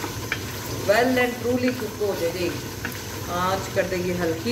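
Aloo gosht meat and potatoes fry steadily in a pot for a dhaba-style dish, a continuous sizzle beneath a person speaking over it.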